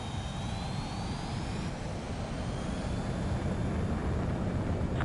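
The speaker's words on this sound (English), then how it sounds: "The base commander's transport craft has taken off." Transport aircraft taking off in Ace Combat 7, a loud, continuous jet engine roar with a steady rumbling low end and a thin rising whine, unbroken for the whole stretch.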